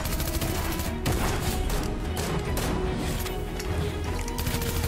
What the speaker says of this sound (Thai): เดี๋ยวผมยิงคนข้างหลังก่อน